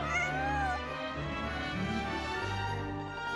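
A cat meows in the video game Genshin Impact, a rising cry with a smaller follow-up, heard near and clear over a steady musical backdrop with no talking.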